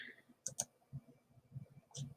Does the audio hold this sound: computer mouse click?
yes